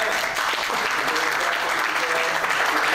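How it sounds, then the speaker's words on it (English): Sustained applause from a marketing conference audience for a panel, a dense, even wash of many hands clapping at moderate distance without a break. "Want to give our round of applause to our wonderful panel."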